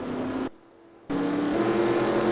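Formula race cars rolling off in a racing video game at Estoril, Portugal, a loud, close engine drone that drops out briefly, then returns and keeps rising steadily.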